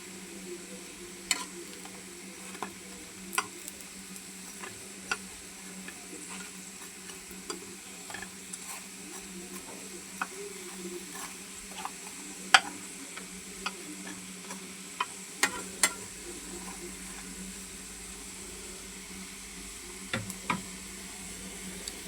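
Onion fritters (piyaju) fry in a pan with a low, even sizzle, while scattered sharp ticks and taps of a utensil sound at uneven intervals, no talk.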